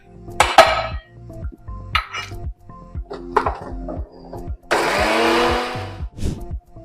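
Mixer grinder grinding roasted coconut for chutney in short bursts, whirring pulses mixed with clinks of the jar and lid, ending in a longer loud grinding run near the close.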